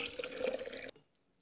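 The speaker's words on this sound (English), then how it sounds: "when we dump in the watermelon, it'll mix with the water" Blended watermelon pours into a pitcher of water, a short splashy gurgling pour close up that stops abruptly, followed by silence and a brief sound at the very end.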